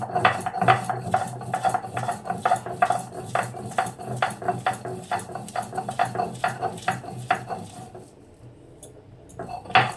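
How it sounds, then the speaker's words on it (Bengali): Pumpkin leaves are ground dry on a grinding stone in a kitchen: steady rhythmic scraping and rubbing strokes, close and fairly loud, repeat for about eight seconds before thinning out. "এবার আমি শাকটাকে বেটে নেব শাকে কিন্তু কোনো জল দেওয়া যাবে না"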